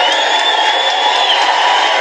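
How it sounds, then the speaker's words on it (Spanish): Stadium crowd at a Carmelita vs Saprissa football match applauds a Brazilian striker leaving as a substitute, a steady loud wash of cheering and clapping with no break. "Recibido con aplausos"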